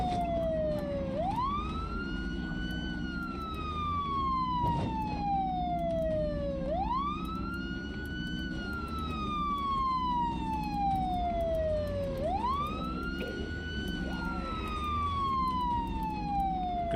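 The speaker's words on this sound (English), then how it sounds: "this siren's getting kind of annoying here, but it is needed for killing these guys" Police-style siren from a SWAT vehicle in the zombie survival game Project Zomboid, in Muldraugh, wailing in long rising and falling sweeps over a steady engine hum, loud and continuous.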